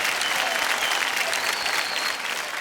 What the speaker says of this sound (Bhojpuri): जोरदार तालियां हमारे दोनों सुपरस्टार्स के लिए।